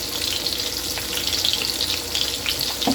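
Water running steadily from a kitchen tap to rinse something, a close splashing hiss with small clinks against it.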